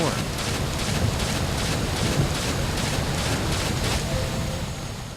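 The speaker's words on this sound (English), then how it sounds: "Oh, the wind. Right. Storm." A storm in the video game A Valley Without Wind 2 roars as steady wind noise, a dense broadband rush that stays loud and unbroken throughout.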